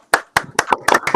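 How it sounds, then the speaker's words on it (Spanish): A few hands clapping after a thesis defense, about six sharp, close claps in an uneven rhythm, sparse and alone. "y te damos un aplauso"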